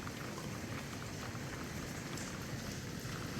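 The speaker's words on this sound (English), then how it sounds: "It's raining hard" Heavy rain in the Coachella Valley pours steadily, a dense, even hiss of drops hitting surfaces close by with no pauses.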